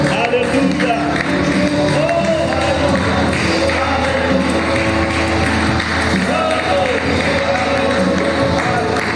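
A church congregation claps and applauds steadily in a large reverberant room, with voices calling out over the continuous applause.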